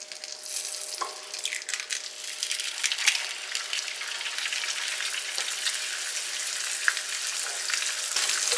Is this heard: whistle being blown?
no